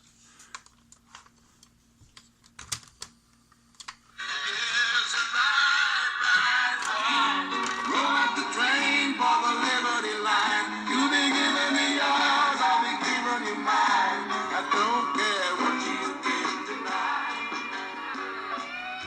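A Fisher-Price toy tape deck playing a cassette starts after a few handling clicks, then runs loud and continuous with music-like tones to the end.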